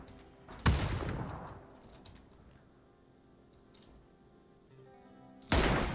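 Two loud, sharp M24 sniper rifle shots in the video game PUBG, one early and one at the very end, each cracking out with a brief ringing tail over quiet in-game ambience.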